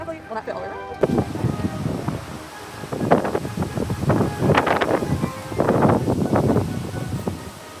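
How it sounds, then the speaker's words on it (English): Strong gusts of wind outdoors at a Halloween yard display, buffeting the microphone in loud, uneven bursts and rushes that swell and fade over several seconds. "in case of days like this where it is really, really windy"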